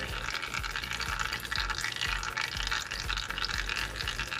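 Fluid drains from a flooded Honda S2000 up on jack stands in a garage, a steady close splashing trickle into a pan that runs without a break.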